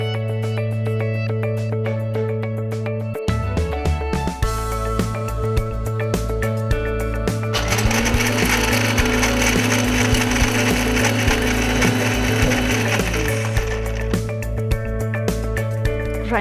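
A mixer grinder grinding roasted dry fruits, a steady motor hum that starts, stops briefly, then runs again with a harsher, louder rattling stretch in the middle before easing off.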